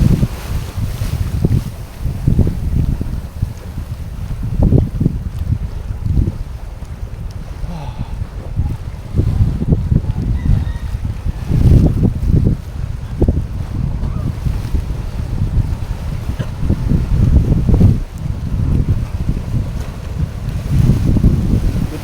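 Strong monsoon gusts buffet the microphone in loud surges while waves crash and churn against a seawall, continuous and rough.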